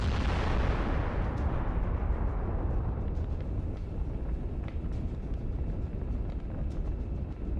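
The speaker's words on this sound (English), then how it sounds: "the shells for the 125mm gun will ignite and cause a spectacular explosion" A loud blast erupts as a tank's 125mm gun shells ignite, slowly fading into a long rumbling roar, with scattered crackling pops as ammunition keeps cooking off.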